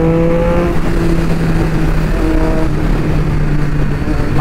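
A Kawasaki ZX6R motorcycle engine runs loud and close in traffic, a steady buzzing roar with shifting tones as the revs change, without speech.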